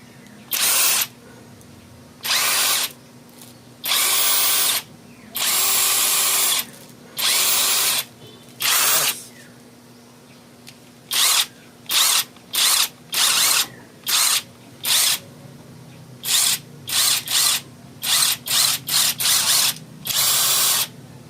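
Tanzu cordless impact drill being tested after unboxing, loud whirring trigger bursts, longer at first and then quick short pulses in rapid succession, close up with no talking.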